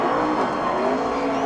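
A pack of NASCAR stock cars roars flat out toward the finish line, four wide, a dense, loud and continuous engine blare with tire noise and no break in the sound.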